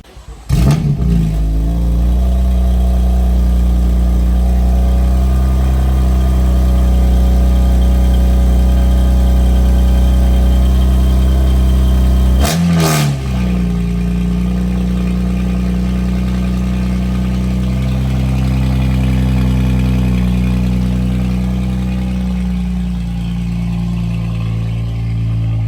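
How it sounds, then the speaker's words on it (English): A BMW F80 M3 engine cold starts, cranking and catching, then settles into a steady, loud idle; about halfway through it briefly stumbles and restarts before idling on. "I'm ready for the cold start, Fudge."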